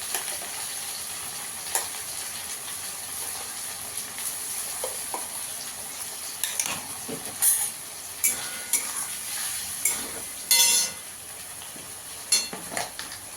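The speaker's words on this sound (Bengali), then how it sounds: "এখানে আদা, কাঁচা লঙ্কা, টমেটো একসঙ্গে বেটে রেখেছি, দিয়ে দেবো।" Ground paste of ginger, green chilies and tomato stirred into potatoes frying in oil, a soft sizzle broken by repeated sharp spatula scrapes and knocks against the pan, clustered in the second half.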